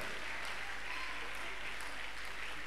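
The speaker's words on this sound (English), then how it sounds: "So keep your hands together." Audience clapping steadily at a student award presentation during a freshers' welcome, a continuous wash of applause from a large crowd throughout.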